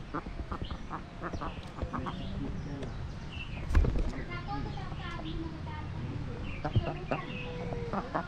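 Ducks quack repeatedly in short bursts close by, mixed with clucking fowl and a person talking now and then over the birds.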